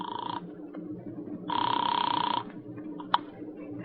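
Old-time radio drama telephone ringing: two bursts of a bright electric bell ring, a short one at the start and a longer one after a pause, with faint room noise and a brief click afterward.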